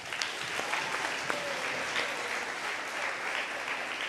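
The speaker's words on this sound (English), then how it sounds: "I'd like to just clap it up one more time for these girls" Steady applause fills a school athletic awards ceremony as the audience claps for a girls' sports team, a dense, continuous patter with a few sharper claps standing out over the crowd.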